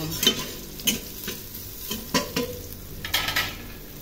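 Garlic, onion and tomato sautéing in a pan for pork rib sinigang, with a soft steady sizzle broken by several sharp stirring scrapes and clatters at irregular intervals, close by and with no talking.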